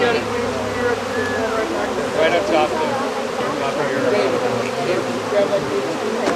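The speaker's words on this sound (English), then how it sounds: "It's normal for a healthy hive to have bees out there, especially on a hot day." Honey bees buzz constantly around a healthy hive on a hot day during a hive-splitting class, a dense droning swarm close by while people talk over it.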